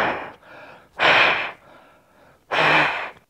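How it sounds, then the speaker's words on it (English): Someone breathes hard through the fabric of a VBN replacement vacuum bag, giving two loud, close, airy gusts a second or so apart, with a softer hiss of air between them. No one speaks. "Breathing into the fabric, and try the VBN one."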